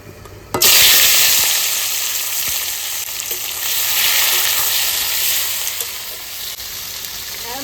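Onion and tomato hit a hot pan with a sudden loud sizzle that settles into steady, bright frying hiss, swelling slightly as the pieces are stirred; no talking over it.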